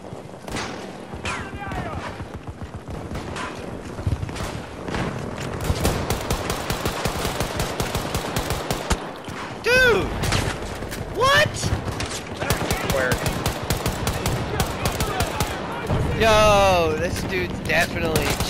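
Rapid automatic gunfire from the video game Battlefield rattles almost continuously in dense bursts, loud and near, with explosions and thuds mixed in while players talk over the action.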